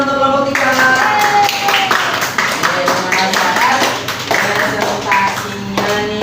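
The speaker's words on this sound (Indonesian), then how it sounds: "tepuk tangan untuk kelompok 3" Clapping for a student group after a presentation in a classroom, heard as quick tapping claps mixed under voices and tonal sounds that run throughout.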